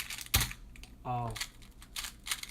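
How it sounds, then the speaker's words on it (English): Someone types a password on a computer keyboard, giving scattered sharp clicks and taps with a brief tonal sound and a voice in between. "that's when I was typing my password"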